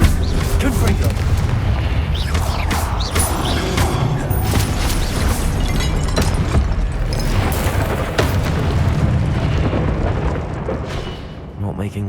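Confringo fire spells burst in a Hogwarts Legacy battle, with dense continuous booming and rumbling impacts layered with clattering effects that stay loud for nearly the whole stretch before easing slightly at the end.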